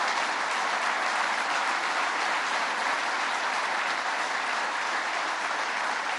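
Audience at a firefighters' legislative conference applauding, a dense, even roar of clapping from a large crowd that holds steady for the whole stretch with no talking over it.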